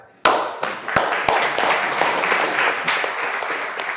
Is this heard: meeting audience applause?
yes